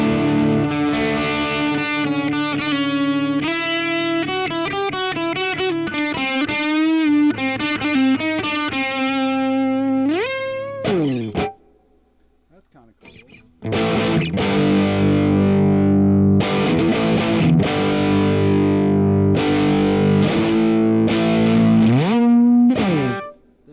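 Electric guitar through the Two-Stone SP50 amp model on a Spark 2 amplifier, loud, distorted and sustained with a fast run of notes, a brief near-silent gap midway, then heavy chords and riffs that ring out to the end.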